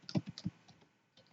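Keys on a computer keyboard are pressed while entering an Excel formula, a handful of quick, quiet, close clicks spaced unevenly, ending with a final keystroke, with no voice.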